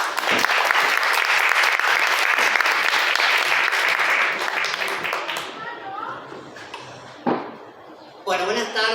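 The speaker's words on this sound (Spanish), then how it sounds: "un fuerte aplauso para ellas" Loud audience applause at a book fair fills the first few seconds, then fades to scattered claps and murmuring voices, and talking comes in near the end.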